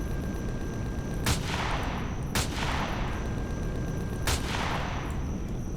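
Gunfire from a ship shooting down enemies in the Empyrion space survival video game, three sharp loud blasts spaced about a second apart over a constant dense rumbling background.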